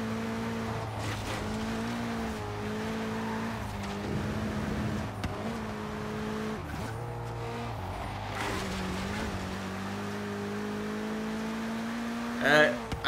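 A tuned car's engine in the racing game Forza Horizon 3 drones and shifts pitch through gear changes as it drives, steady and prominent, with some background voice-like sounds mixed in.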